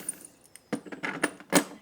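Small loose metal parts from a vehicle hard top rattle and clink in several short bursts, close by, with a louder shake near the end.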